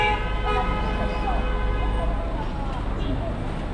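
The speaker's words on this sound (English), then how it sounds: "Why is that guy honking?" Car horn toots amid busy city street traffic in Chongqing, China, with steady road noise and nearby voices talking throughout.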